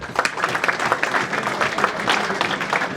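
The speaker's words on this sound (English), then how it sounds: "Big round of applause for them." Round of applause for award recipients at a cricketers' reunion, many hands clapping in a steady, moderately loud patter from a gathered crowd.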